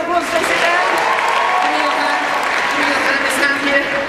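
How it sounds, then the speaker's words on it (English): Comedy show crowd at a college gig giving loud, sustained applause, a close, dense roar of clapping that carries evenly throughout with some voices mixed in. "Give him a massive round of applause"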